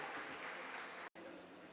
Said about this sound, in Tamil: ஒரு உற்சாகமான கைத்தட்டலுடன் ஐஸ்வர்யாவை மேடைக்கு அழைச்சிடலாம்